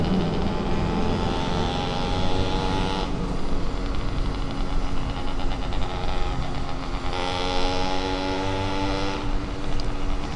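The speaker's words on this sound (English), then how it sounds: "just a dude put a little motor on his bicycle" A bicycle fitted with a small add-on motor passes at night in a Louisville neighborhood, its engine a loud, steady buzzing drone with harmonic whine that swells and fades over about ten seconds, heard alone without talk.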